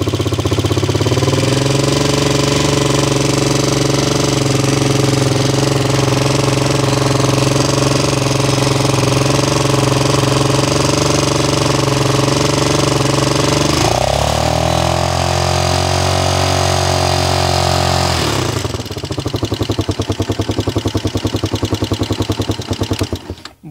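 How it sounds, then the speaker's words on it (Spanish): A motorcycle engine runs loudly and steadily at close range, then revs up briefly and falls back to a rattling idle during a stator voltage test. "Yo le voy a ir acelerando."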